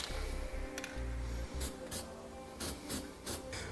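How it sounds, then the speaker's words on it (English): Black spray paint hisses from a can onto exposed bare metal of a 2015 Chevrolet Silverado 2500 truck bed, coming in several short bursts of close, breathy spray between pauses. "I'm just going to use black spray paint, and I'm going to cover that to help prevent any other rusting."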